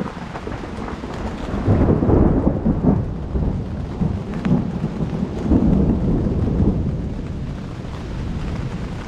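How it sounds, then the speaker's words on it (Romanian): Heavy rain pours in a mountain forest as deep thunder rolls and rumbles repeatedly, loud and close, under a steady hiss of rainfall. "E un sentiment extraordinar să stai în pădure și să plouă și să vezi, să auzi cum tună"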